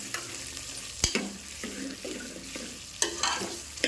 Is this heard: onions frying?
yes